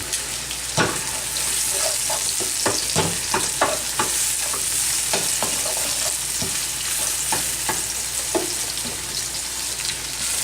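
Pancetta fries in a pan, a constant close sizzle with crackles and irregular scraping knocks as it is stirred.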